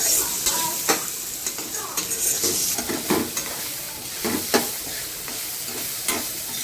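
Tomatoes saute over a full gas flame, giving a continuous bright sizzle broken by frequent rhythmic spatula strokes and scrapes against the pan, close and fairly loud with no voices.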